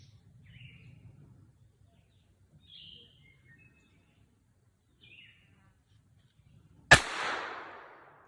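A single sharp pistol shot from a Taurus GX4 at a shooting range, loud and close with a brief echoing tail, following quiet moments with faint bird chirps and low murmur.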